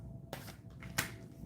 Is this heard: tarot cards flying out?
yes